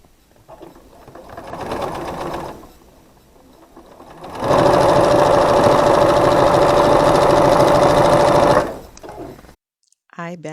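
A sewing machine sews quilt pieces cut from layer cakes, first in a short softer burst, then in a loud, steady, close run of several seconds that stops abruptly.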